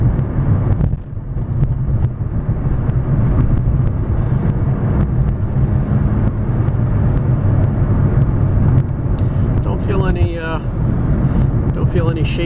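A lowered 2006 Honda Civic EX with a five-speed manual gearbox cruising on the road, its engine and tyre rumble forming a loud, steady drone from inside the cabin throughout.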